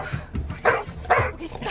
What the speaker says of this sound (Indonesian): Namun tiba-tiba anjing Walker tepuguh-puguh ngagorowok.